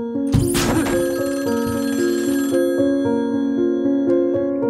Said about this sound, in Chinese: 电话铃声响了